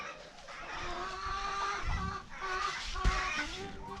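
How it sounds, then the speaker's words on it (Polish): Large roosters and other fowl on a poultry farm cluck and call continuously at close range, with bird sounds layered over a busy farmyard background and a brief louder thump near the end. "bo to koguty przychodzą dwa koguty te duże"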